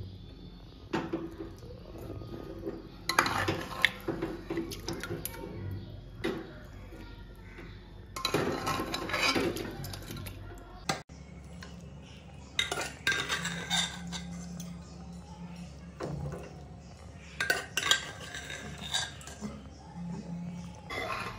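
Metal spoon scraping and clinking against a cooking pot while boiled mutton is spread over rice for mutton tehari, intermittent close clatters and knocks with quiet gaps between.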